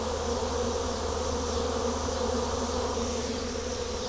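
A massive wild bee swarm settling in a barn, with a queen among the cluster, gives a dense, continuous close-up buzz that stays steady and loud throughout, with no voices.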